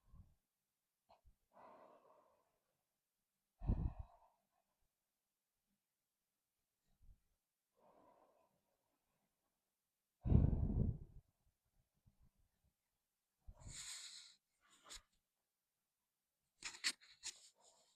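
Deep, slow breathing during a yoga pose: scattered close inhales and exhales, some with a wheezy or snorting edge, separated by long stretches of near silence.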